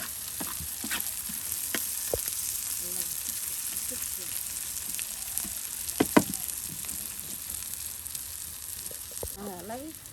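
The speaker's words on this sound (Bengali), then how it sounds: "পেঁয়াজ রসুনের সাথে মাছ ভাজি" Fish frying in oil with onion and garlic in a village kitchen gives a steady, fairly soft sizzle, broken by occasional clicks and scrapes of a utensil in the pan and brief faint voices.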